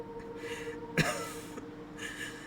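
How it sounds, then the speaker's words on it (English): A single short cough, part of a weary chuckle from a character in the video game Dread Delusion, bursts out around the middle, breathy and close, against a faint steady background hum with quiet rustling before and after. "He lets out a weary chuckle that breaks into a cough."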